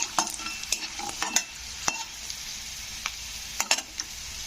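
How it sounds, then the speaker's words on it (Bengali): Peanuts and dried red chillies frying in hot oil, a bright continuous sizzle close by, broken by repeated sharp scrapes and taps of a spoon stirring against the pan. "শুকনো লঙ্কাগুলো একটু ভেজে নিতে হবে"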